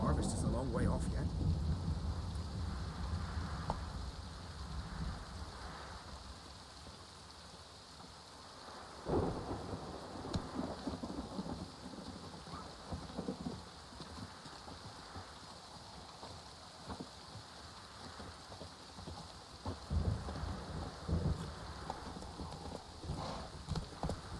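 Steady rain hisses over a rural landscape in The Witcher 3, with deep rumbles of thunder rolling in twice and the soft clop of horse hooves nearby, all fairly quiet.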